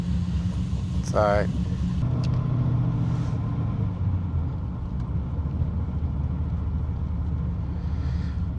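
A VT Berlina with an LS1 V8 idles with a steady, choppy low rumble close by, with someone talking over it briefly near the start.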